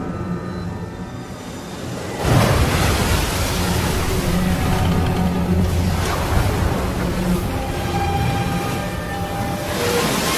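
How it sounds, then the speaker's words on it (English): Strong wind blows over rough lake water in a dense, continuous roar of rushing air and churning waves that surges louder after a quieter opening and stays full and steady. "By then a strong wind was blowing and stirring up the water."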